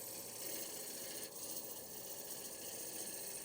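An Irons shear scraper cuts wood on a lathe, giving a continuous faint rasping whir with an even texture and one small scrape partway through.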